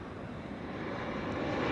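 A plane flying downwind north of the runway at Amsterdam Schiphol, a broad steady engine roar that swells slightly over a couple of seconds, distant but clear with no voices.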